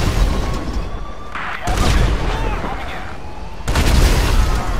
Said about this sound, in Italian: Ah, direttamente dal cannone.